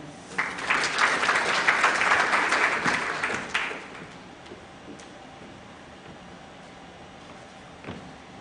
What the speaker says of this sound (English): I don't think that applause was big enough.